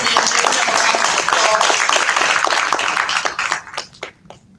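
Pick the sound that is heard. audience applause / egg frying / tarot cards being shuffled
audience applause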